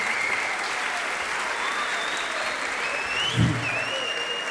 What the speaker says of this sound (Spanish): Un aplauso para el maestro que se abrió